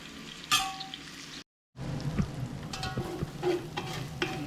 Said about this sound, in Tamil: கோல்டன் கலர் வர வரைக்கும் வெங்காயம் வந்து ஃப்ரை பண்ணணும்